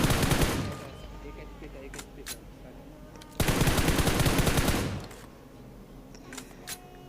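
Automatic gunfire from the mobile battle royale game PUBG Mobile, played on a Redmi K20 Pro, comes in two loud sustained bursts with a few single shots between and after, while someone talks over the action.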